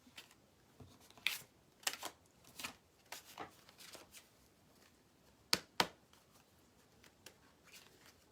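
Tarot cards from a Hush Tarot deck being shuffled by hand in a quiet room, a series of short crisp riffles and flicks in uneven bursts, with two sharper snaps near the end.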